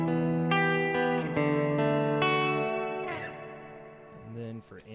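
A guitar runs through a pedalboard with a low-mix reverb, ringing chords that change every second or so and hang in a wet tail, fading toward the end.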